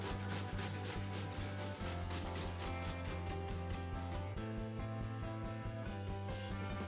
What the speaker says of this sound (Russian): Натираем его на крупной терке.